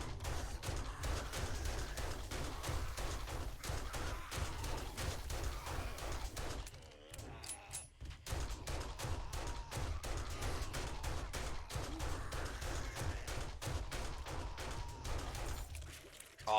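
Rapid, sustained gunfire pours into a zombie horde in 7 Days To Die, a dense stream of shots with a short lull in the middle before the firing resumes just as hard.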